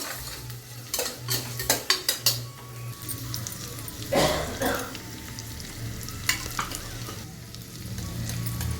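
Ingredients for vathakuzhambu rice sauté in a pot, a steady close sizzle with a quick run of metal spoon clinks against the pan early on and occasional scraping stirs.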